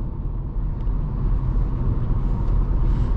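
Steady low engine drone of a BMW E90 sedan while driving, a continuous close rumble of road and motor noise holding fairly even through the stretch without talk.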